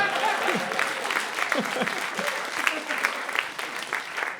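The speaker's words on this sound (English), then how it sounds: "Hey, round of applause for that." Studio audience applause on a holiday-special talk show, a steady wash of clapping through the whole stretch with some voices and cheers mixed in.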